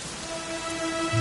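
Steady rain in Dragon Quest XI: Echo of an Elusive Age, a dense even hiss of falling drops that holds at a constant moderate level throughout, with no voices.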